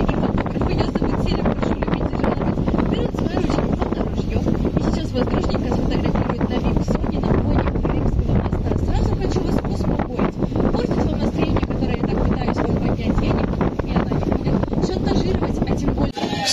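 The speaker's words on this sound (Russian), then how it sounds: "ветер сильно дует" Strong wind roars steadily on a boat at sea near the Kerch (Crimean) Bridge at night, a loud, unbroken rush buffeting the microphone for the whole stretch, with a voice talking underneath.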